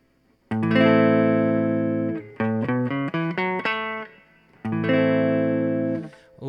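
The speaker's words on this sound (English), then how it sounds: "Now let's play a minor chord and then jump through the major pentatonic scale." On a distorted, effects-laden instrument, a sustained minor chord rings, followed by a quick run of single notes up a major pentatonic scale, then the chord rings again, clear and close with no talk.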